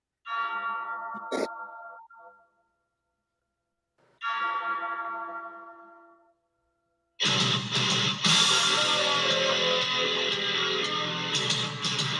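A large bell tolls twice, and each loud strike rings out and decays slowly before falling silent. A loud, dense burst of music-like sound follows at the end.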